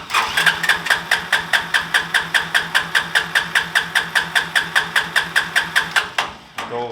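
A mini Willys jeep engine cranking on choke, a fast, even chug of about thirty rhythmic beats, loud and close, stopping abruptly near the end.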